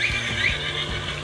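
A horse in a video game whinnies loudly after being punched, a single drawn-out neigh over faint clip-clop hoofbeats, with no talking.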